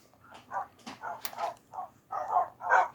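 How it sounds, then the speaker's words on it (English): Tamed pale wolves, Minecraft's original dogs from the taiga, bark about eight times in quick, uneven bursts. The barks sound close and fairly clear, with yips mixed in. "So right here we have the original dogs, which are pale wolves, and they spawn in taigas."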